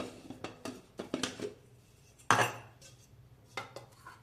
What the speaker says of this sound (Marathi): त्यासाठी मिक्सरचं भांड घेणार आहे